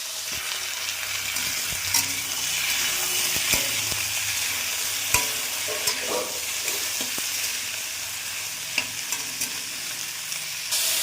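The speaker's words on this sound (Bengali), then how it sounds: "কাঁকরোল আলুগুলোকে ভালো করে ভাজা ভাজা করে নিতে হবে" Teasel gourd and potato pieces fry in hot oil in a kadai with a steady, dense sizzle, punctuated by sharp clicks and scrapes of a spatula stirring, with no voices.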